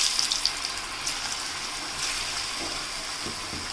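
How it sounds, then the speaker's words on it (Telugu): Gobi pakoda batter sizzles in hot oil in a pan, giving a steady, dense hiss and crackle that runs on evenly throughout. "ఇప్పుడైతే ప్యాన్ పెట్టుకొని అందులో నూనె అయితే వేడి చేసుకొని ఒక్కొక్కటి పకోడీలాగా అయితే వేసేసుకుందాము"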